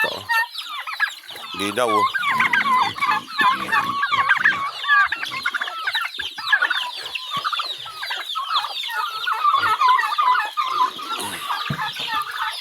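Farm chickens cluck and chatter continuously at close range, a busy flock of hens and chicks, with a person speaking briefly among them.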